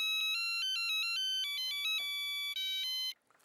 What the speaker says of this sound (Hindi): देव भाई को फोन करके पूछ लेता हूँ।